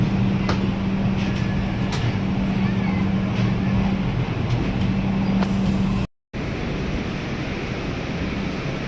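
Steady rumble and rushing roar of an Indian Railways Coimbatore AC special train hauled by a WAP-7 electric locomotive, heard from on board, a low droning hum throughout with one brief dropout near the end.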